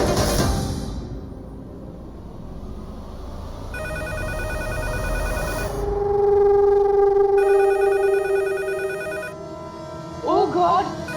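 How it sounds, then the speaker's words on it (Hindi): Telephone bell ringing late at night in a household scene from a Hindi TV drama, two clear bursts of ringing separated by a pause, heard over a quiet room with some background voices and sounds. "फोन की घंटी रात को काय बजत हो?"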